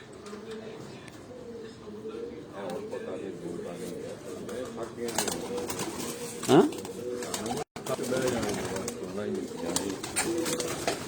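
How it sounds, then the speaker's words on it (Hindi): Pigeons cooing in low, throaty calls on a rooftop amid a busy mix of background noise and a voice talking over them. "सारे दोस्तों जितने भी कबूतर आप देखते हैं, ये सारे कबूतर माशाल्लाह मलक आबद भाई के घर"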